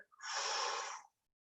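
A single long exhalation during a floor stretching exercise, a soft airy breath lasting about a second, close and alone.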